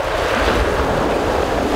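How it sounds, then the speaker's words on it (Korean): Ocean waves rolling onto a winter sea shore on Biando island off Gunsan, a continuous loud roar of surf mixed with wind buffeting the microphone, with no voices. "동네 어디에서나 이 파도 소리를 들을 수 있다는 건데요"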